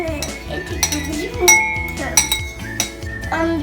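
Whisking eggs in a bowl for mozzarella cheese sticks: utensil clinks and scrapes against the bowl in an irregular, rapid rhythm, close and moderately loud, over a steady kitchen background.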